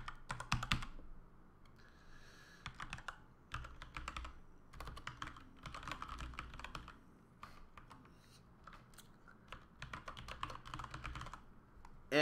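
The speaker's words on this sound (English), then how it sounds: "So we're going to go ahead and type in our details here." Someone typing details into a computer keyboard, a close, continuous patter of key clicks in irregular bursts throughout.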